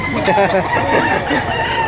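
A rooster crows at a busy chicken market in Lipa, Batangas, loud and close amid surrounding clucking and murmuring voices.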